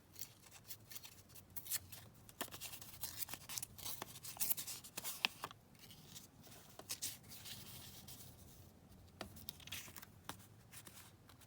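Scraps of paper being torn up for vintage craft tags give soft, close rustling and ripping with irregular sharp crackles and pauses, faint and intimate.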